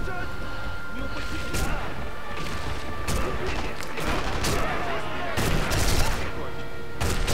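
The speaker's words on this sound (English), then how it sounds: "So they shooting somebody that's downstairs." Gunfire in the sniper shooter game Sniper Elite V2, with repeated sharp shots and rattling bursts in a dense indoor firefight, loud and continuous over several seconds with someone talking over it.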